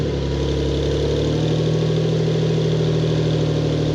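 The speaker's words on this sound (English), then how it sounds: "It's definitely loud for a few seconds on a cold start" A 2022 Porsche 911 GTS Cabriolet with a valved exhaust idles just after a cold start, a loud, steady, close engine drone that settles slightly lower after the first second or so.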